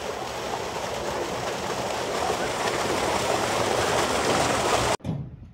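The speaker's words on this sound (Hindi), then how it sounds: "और अभी यहाँ पे पानी जा रहा है।" Water gushes steadily from a village tube well driven by a 10 hp solar-powered motor pump, a loud continuous rushing that cuts off abruptly near the end.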